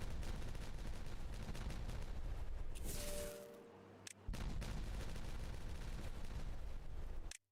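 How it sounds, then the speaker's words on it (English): Explosions detonate in a beaver-colony building game, dense crackling blasts filling nearly the whole stretch, with a brief hollow drop-off before the loud barrage resumes and runs to the end. "So why don't I go ahead and just detonate some of this?"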